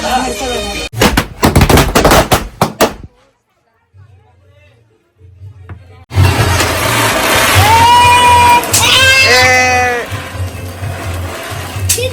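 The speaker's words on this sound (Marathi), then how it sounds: "पोरांनी फटाका बिटाका जाम फोडल्यात" Firecrackers set off by boys during a Tulsi wedding celebration: a loud, rapid string of sharp cracks, then a brief hush, followed by a noisy stretch of crowd chatter and high whistling sounds.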